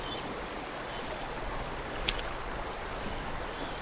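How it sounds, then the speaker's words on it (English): Fast-flowing water of the River Tweed runs steadily over boulders, a continuous close broadband rush with one brief splash near the middle and no voices. "Nice bit of fast water here, it's flowing"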